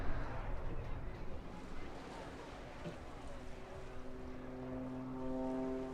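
Aircraft climbing away at a seaside airshow, a broad engine roar with a rising drone that builds toward the end, heard at a distance under crowd and wind noise.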